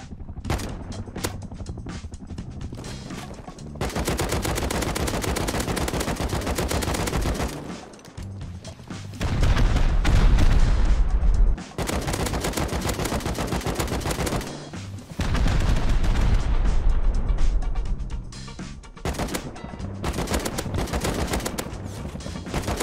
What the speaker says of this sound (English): AK broke, last shot.